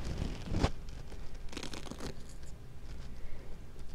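Cloth burial wrappings being pulled off a Lazarus puppet make a broad tearing, crinkling rustle, strongest in one sharp rip near the start and then in a later cluster of rustles, fairly close with no talking.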